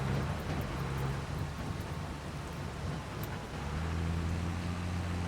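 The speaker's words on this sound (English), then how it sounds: "The rain has started up." Steady hiss of rain in Farming Simulator, a continuous wash of noise over a low machine hum, moderately loud throughout.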